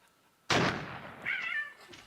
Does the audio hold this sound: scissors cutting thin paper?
no